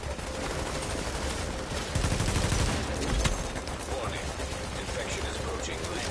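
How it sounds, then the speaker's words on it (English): An enemy turret fires on players in The Division survival PvP: dense, rapid automatic fire keeps up steadily through a noisy, cluttered battle soundscape, with a heavier burst in the middle. "He's got a turret on us."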